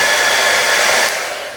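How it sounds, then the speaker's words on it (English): A handheld blow dryer runs steadily close by, blowing across wet paint on a painted picture of creepy trees, with a broad, even roar that eases slightly toward the end. "we're going to use our magic blow dryer and blow"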